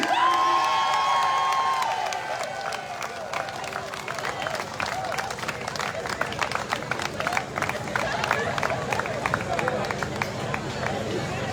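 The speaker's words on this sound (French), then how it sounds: "on les applaudit" Crowd applause at an outdoor patronal festival in Le Robert, honoring the crew of the Caracoli yole: sustained, dense clapping with scattered cheers, starting right away after a voice over a loudspeaker and continuing steadily to the end.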